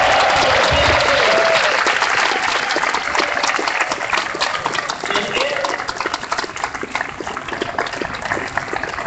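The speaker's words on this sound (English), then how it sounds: "Can we give Eric another round of applause?" Crowd at an inauguration ceremony in Los Angeles bursting into loud, dense applause that holds steady then slowly thins, with cheering voices mixed in.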